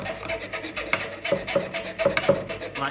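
A cheap hand saw cuts through a piece of wood held on a kitchen table, producing a steady, rapid series of close rasping strokes.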